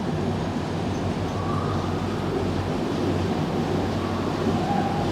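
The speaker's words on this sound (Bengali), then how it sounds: "ট্রেন ঢুকে গেল ফার্স্ট টানেলে" A train running into a railway tunnel in Mizoram, a continuous dense rumble and roar of wheels on the rails with a steady, enclosed sound throughout and no talking.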